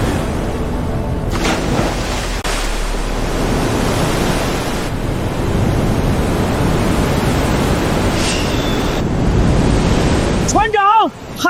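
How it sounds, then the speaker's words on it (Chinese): Big sea waves surging toward a ship at sea in a film scene, a loud, continuous broadband roar of surf and wind that swells and crashes throughout, with a heavy boom near the end. "海浪朝这边来了，浪好大！"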